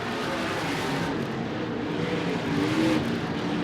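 USAC/CRA sprint cars race at Phoenix, one running a 360 cubic inch engine, producing a loud continuous roar of engines with a swelling pass near the end.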